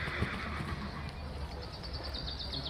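A horse trotting at a sale ring, with faint hoof clip-clops over a busy arena background and a short whinny-like sound near the end.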